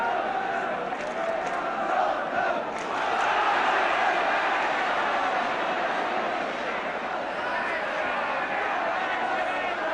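A large stadium crowd at a 1975-76 Spurs v Middlesbrough football match gives a sustained roar of cheering and chanting that swells midway. A commentator's voice runs faintly underneath.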